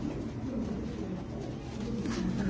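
White fantail pigeons at a pigeon sale center, cooing in low, continuous throaty murmurs close by, layered together with no talk.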